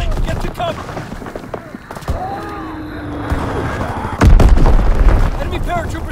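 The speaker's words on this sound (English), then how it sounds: "Enemy bomb incoming. Get to cover." Gunfire and bomb explosions ring out in the video game Call of Duty WWII, with scattered shots, whistling projectiles and a heavy blast near the end, under radio-style voice callouts.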